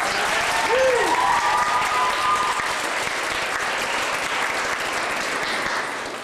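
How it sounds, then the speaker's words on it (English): A large crowd at a school event applauds a police division after an escort: loud, sustained, wash-like clapping with a brief whistle or cheer early on, tapering slightly at the end. "Let's give 32 Division a round of applause."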